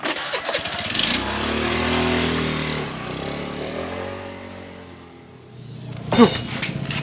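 A motorcycle engine cranks and starts, then idles with a steady low hum that fades, followed by a sharp burst of noise near the end.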